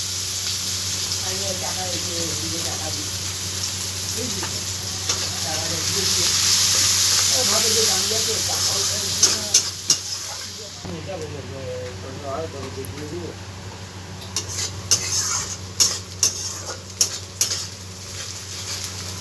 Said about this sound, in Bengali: এবারে আমি এর মধ্যে কুচনো পেঁয়াজগুলো দিয়ে দিচ্ছি, দিয়ে ভালোভাবে এটাকে ভেজে নিই